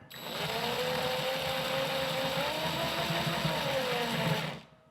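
A power drill drives a screw into kitchen cabinets during a home kitchen build, one continuous steady motor whine lasting several seconds, close and loud, then cutting off at the end.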